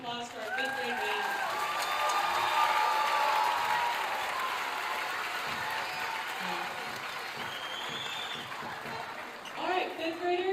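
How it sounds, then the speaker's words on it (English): A school audience applauds a fifth grade band at a spring concert, clapping loud and sustained for several seconds before it fades and a voice begins to speak. "So one last round of applause for our fifth grade band."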